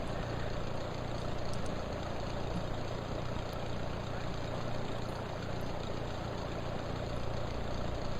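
An aircraft engine idles while the plane taxis in a flight simulator game, a steady, even drone with a low rumble and broad noise that holds constant throughout, with no voices.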